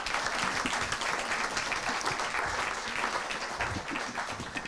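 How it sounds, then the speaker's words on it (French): A live audience at a French foundation's public panel event applauds steadily throughout, a dense, even wash of many hands clapping at moderate distance, with a faint voice briefly underneath. "Eh bien, on va vous applaudir, vous remercier."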